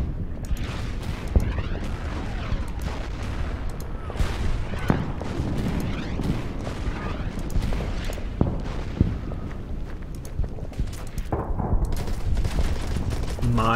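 Continuous booming and rattling gunfire from artillery and other weapons in the World War II strategy game Order of Battle: Pacific, a dense, loud barrage with sharp louder hits scattered throughout.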